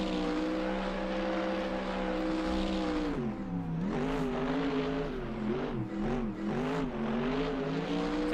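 Engine of a Chevrolet C5 Corvette street drift car in Assetto Corsa, droning loudly and continuously, its pitch holding steady and then dipping and wavering as the revs rise and fall.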